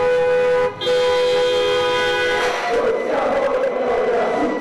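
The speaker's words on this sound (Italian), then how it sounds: "suonano i clacson per le strade" Car horns blare in sustained, overlapping honks as sports fans celebrate in the streets, waving flags, then give way to a noisy street crowd and traffic din.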